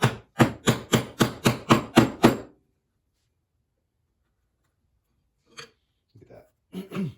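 Chisel chopping a mortise for a back slat in a ladderback chair: about eight sharp, evenly spaced mallet blows ring out close and loud, then a long quiet, then a few scattered softer knocks and scrapes.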